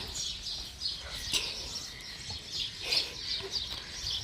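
Birds call and chirp at dawn with a rooster among them, several overlapping calls coming from a moderate distance over soft outdoor ambience.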